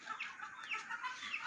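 Chickens clucking inside a poultry farm shed holding thousands of birds, a dense overlapping chorus of soft clucks and chirps, continuous and moderately near, with no voices.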